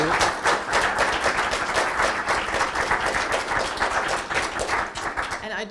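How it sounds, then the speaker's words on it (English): Dense, steady applause from a conference audience honoring an energy-transition speaker, many hands clapping continuously at fairly loud level throughout. "Let's give him a round of applause."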